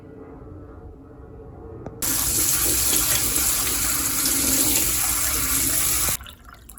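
Half a cup of quinoa gets rinsed under a running tap, a loud steady gush of water that starts abruptly, pours continuously for about four seconds, then cuts off, leaving quiet room tone.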